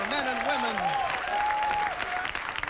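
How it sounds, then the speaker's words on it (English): A studio audience at a 1994 TV game show, The Price is Right, applauds in a loud, dense, steady wash while a voice carries over the clapping. "Why don't you stand up and give yourself an applause?"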